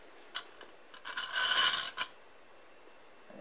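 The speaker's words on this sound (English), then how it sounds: "And then we simply put a second plate on." A stainless steel plate set down onto nylon washers in a hydrogen generator stack, giving a few sharp metallic clicks and then a brief scraping rub, close and clear, with no talking.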